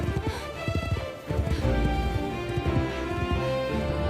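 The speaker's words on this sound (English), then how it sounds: "She rode her horse into the dark forest, but it was freezing cold and dangerous." A horse's hooves clip-clop steadily while it is ridden through a dark, cold forest, with a rhythmic run of hoofbeats under continuous ambient music.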